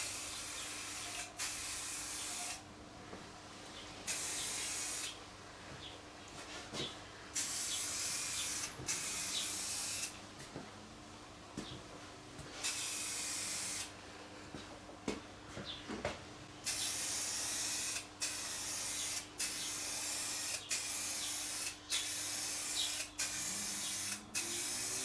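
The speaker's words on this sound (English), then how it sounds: "I reckon I most probably didn't spray it close enough" Spray paint hisses from an aerosol can onto the pitted chrome rear rack of a Suzuki Boulevard C50 motorcycle, in repeated bursts of several seconds separated by brief pauses, close and steady with no talking.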